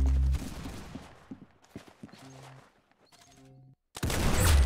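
Video game Arsenal: a short burst of close gunfire opens, followed by scattered sharp shots and clicks. After a brief silence, another loud burst of firing comes near the end.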